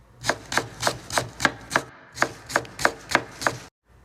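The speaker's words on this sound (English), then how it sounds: "I'm getting out garlic and I'm going to cut it" A kitchen knife chops garlic on a cutting board in about a dozen crisp, evenly spaced strikes, close and clear, with a brief pause midway and no voices.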